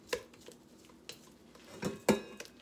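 A utensil knocked against a mixing bowl to loosen Swiss meringue buttercream, giving a few sharp, separate clinks and taps that land close and at an irregular pace.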